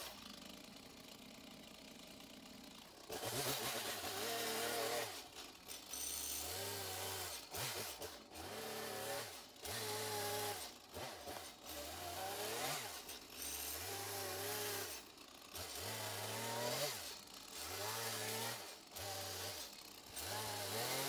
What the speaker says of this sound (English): It's just an MS-170, and then they converted it into a sculpting saw for me.